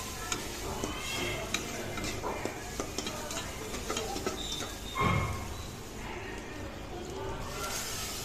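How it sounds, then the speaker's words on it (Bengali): Ginger, garlic, chili powder and turmeric stir-fried in a pan, giving a steady close sizzle with scraping spatula strokes and faint utensil clinks throughout. "এবার আর একটু ভালো মতো কষাই দিতে হইবে।"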